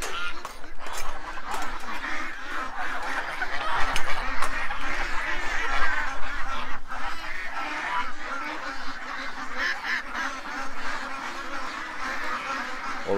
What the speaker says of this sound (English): The ducks just jumped and freaked.